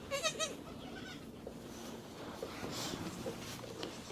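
Day-old baby goat giving a short, faint, quavering bleat right at the start, then a quiet, rustling background in cold weather.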